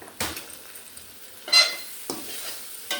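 Vegetable egg fried rice is stirred in a pan: four separate scraping sweeps spread unevenly over the moment, each rising above a low background sizzle, close by, with no talking.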